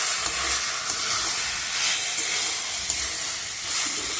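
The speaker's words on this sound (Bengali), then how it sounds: "দিয়ে সমস্ত মশলার সাথে আলু আর ইঁচড়টাকে ভালো করে মিশিয়ে দেবো।" Potatoes and jackfruit sizzle steadily in hot oil while being stirred into the spices, a continuous close frying hiss with soft scraping strokes and no voices.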